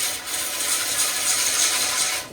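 A large wooden platter spins on a high-torque, 3-horsepower wood lathe as a gouge removes wood, producing a continuous close scraping, hissing cut that stays steady before tapering off at the end.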